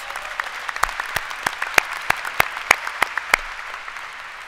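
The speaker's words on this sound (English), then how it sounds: "Yes, they deserve a round of applause." Applause at a high school commencement ceremony, a crowd clapping in a large space with several sharp, distinct nearby claps standing out in a loose rhythm above the steady background.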